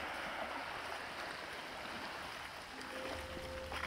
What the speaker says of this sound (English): If you want to record the sounds of the waves from under the surface, the simplest technique is just to throw them in.